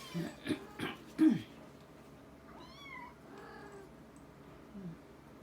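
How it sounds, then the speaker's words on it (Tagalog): A cat meows several times in quick succession, close and fairly loud, then goes quieter while other faint mews and calls sound in the background. "Yung ano, pusa ni Gloda oh"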